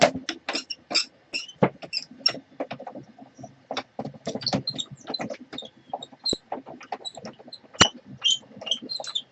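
A die-cutting machine cuts cardstock with a busy clattering and crunching, irregular clicks and a few sharper snaps over a low mechanical rumble.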